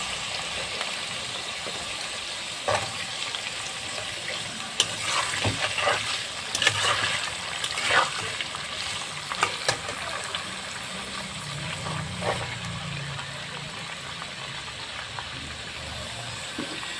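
Chopped papaya frying in oil after a tempering of dried red chilli and nigella seeds makes a continuous sizzle. Intermittent clattering stirs and scrapes sound close by, with no voices.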